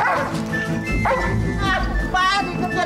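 A dog in a TV drama barks and yips repeatedly up close, with whimpering tones between the barks, over a busy background.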